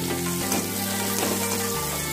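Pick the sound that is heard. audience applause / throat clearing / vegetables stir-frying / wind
vegetables stir-frying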